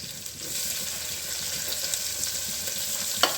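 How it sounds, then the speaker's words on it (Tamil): Sliced onions sautéing in hot oil with mustard seeds and fennel in a pan, a steady close sizzle and crackle throughout with a small clink of stirring near the end. "வெங்காயம் நல்லா வதங்கட்டும்."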